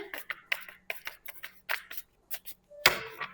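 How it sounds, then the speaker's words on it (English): A deck of tarot cards is shuffled close by: a quick, irregular series of soft, crisp papery bursts, fairly quiet, ending with one louder riffle. "One more shuffle."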